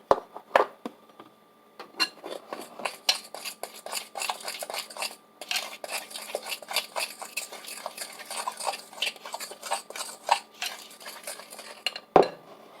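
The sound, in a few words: mixing banana fritter batter in a bowl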